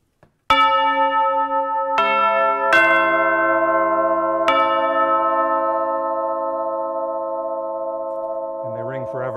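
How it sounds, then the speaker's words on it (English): Orchestral tubular bells are struck four times in succession, each chime ringing out and sustaining in a long, shimmering overlapping decay, clear and close. "Instead of a small set of bells, this is a large set of bells."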